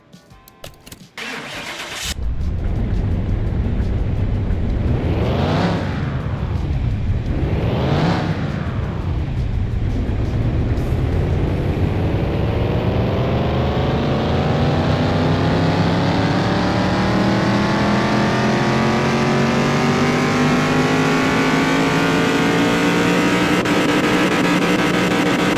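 A car engine in Car Mechanic Simulator 2021 starts, then revs hard twice on a dyno before holding a loud, rising, sustained roar with sweeping whine.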